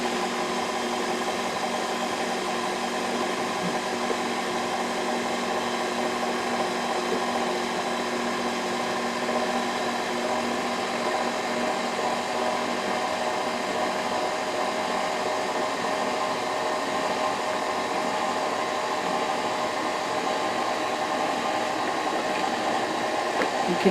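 An electric mixer beating ricotta cookie batter as flour goes in, a steady motor whine with a constant hum, close and even throughout with no talk over it.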